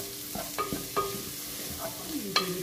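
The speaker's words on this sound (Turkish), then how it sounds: "iyicene şöyle karıştırıp biraz da unuyla kavuralım" A spoon scrapes and stirs through chicken and vegetables roasting with flour in a pot for soup, giving a few distinct scraping strokes over a soft, steady sizzle.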